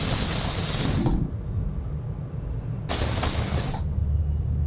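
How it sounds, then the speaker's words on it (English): Two loud, sharp bursts of hissing steam from a pressure cooker cooking sweet pongal rice, each lasting about a second, separated by a quieter pause with low background rumble. "There's so much steam."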